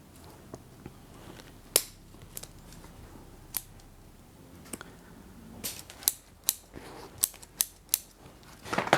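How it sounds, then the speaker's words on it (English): Scissors snip back the roots of pine seedlings grown from seed in sharp, close clicks, scattered at first and then coming quickly one after another. "those you can cut down or cut back as well."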